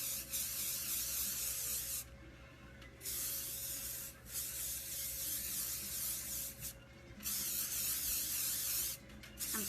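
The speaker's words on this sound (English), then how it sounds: "I'm spraying it on my USA, and I'm even spraying it on my ribbon." Glitter spray from an aerosol can hissing onto a sign and ribbon in several long bursts separated by short pauses, close and fairly loud.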